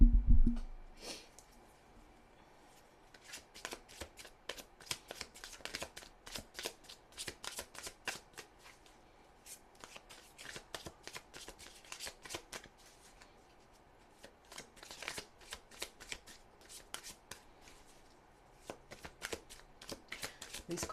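Slippery tarot cards are shuffled at close range, a steady run of soft riffling bursts and flicks repeating over about twenty seconds, with no talk.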